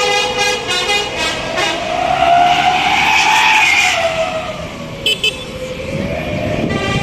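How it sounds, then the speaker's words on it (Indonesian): A Gumarang Jaya intercity bus pulls away at a busy Indonesian terminal, its engine rising and falling in a loud, close drone, with brief horn toots and tire or brake squeals layered over the steady roar. "Dan ini dia bus Gumarang Jaya yang berangkat duluan."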